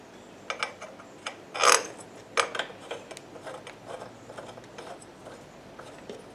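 A socket wrench ratchets on a lawn mower during a head gasket job: several short, sharp clicking bursts spaced irregularly, close and fairly crisp, with one louder rattling burst early on.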